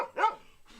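A dog gives a single loud, close bark followed by a fainter trailing yelp, heard alone without talk.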